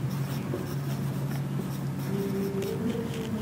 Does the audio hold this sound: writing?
yes